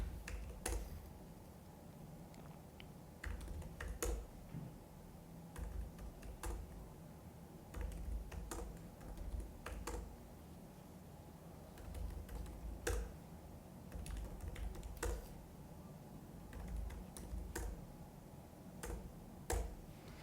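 Quiet, scattered computer keyboard clicks tap in irregular bursts over a low steady hum, with no one talking, while payroll figures are typed in.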